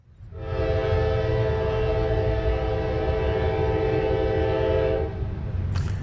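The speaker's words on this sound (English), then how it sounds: "I finally heard a train coming." A train horn sounds one long, sustained chord over the low rumble of a train, then cuts off, leaving the rumble and a brief squeal.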